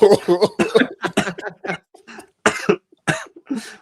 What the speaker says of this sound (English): maybe stop coughing